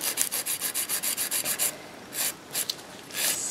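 A nail file rubbing across a reinforced natural fingernail to shape it, quick even rasping strokes in a steady rhythm, then a few slower scattered strokes, close and alone.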